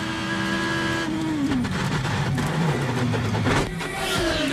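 IndyCar race car engine heard onboard Dan Wheldon's car at the 2010 St. Petersburg round, a loud close engine note that drops in pitch under braking, then revs and climbs again, with brief tire scrubbing.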